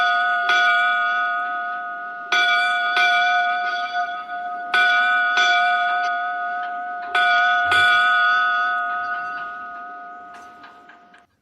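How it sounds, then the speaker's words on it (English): A ship's bell struck in pairs for a burial at sea, clear ringing strikes with long decaying tones, paced in twos across the span, loud and close with no voices. "we honor them, their families, their fans, with 8 bells"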